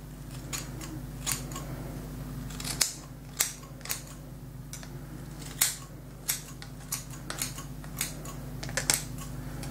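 Scissors cutting hair straight across, about a centimetre off the ends, during a home haircut: a series of crisp, close snips at an irregular rhythm over a low steady hum, with no talking.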